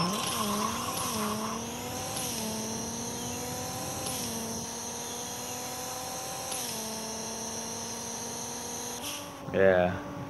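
Simulated drag race in the Racing Rivals game, a 2011 Subaru WRX STI against a McLaren: a loud, close engine whine climbs steadily in pitch through several quick gear shifts before cutting off, followed by a brief louder burst at the end.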